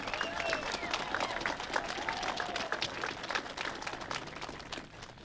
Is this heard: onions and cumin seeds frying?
no